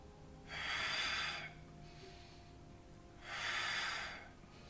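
During a Pilates workout with small dumbbells, two strong, forceful exhalations rush out close to the mic, each lasting about a second, separated by a quiet pause.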